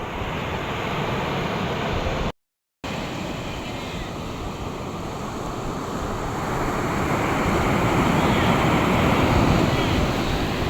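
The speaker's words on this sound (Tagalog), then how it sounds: "Oh, malaki ang alon." Big sea waves rolling onto a beach, a loud constant roar of surf mixed with wind buffeting the microphone, swelling slightly toward the end.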